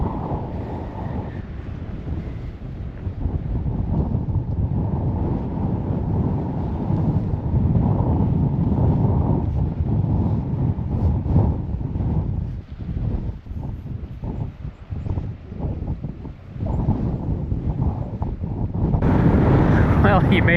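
Strong wind gusts through a gap and across a lake beside Alaska's Denali Highway, buffeting the microphone with a loud, continuous low rumble that swells and dips for about twenty seconds.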